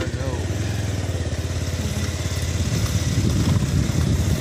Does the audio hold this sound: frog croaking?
no